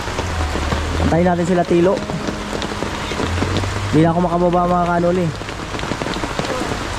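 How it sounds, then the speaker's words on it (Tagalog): Steady rain falls throughout, a constant wash of drops on surfaces close by, with people talking over it. "Sulungin natin kasi umuulan."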